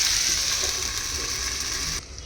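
Sliced potatoes fry under a lid in a covered pan, giving a steady, dense sizzle with a bright hiss that continues evenly, then drops suddenly quieter near the end.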